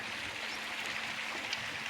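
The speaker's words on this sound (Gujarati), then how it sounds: "પાણી કેવું સારું હાલ્યું આવે છે" Water from a stream or channel runs steadily outdoors, a continuous broad rushing and trickling wash at moderate level with no breaks.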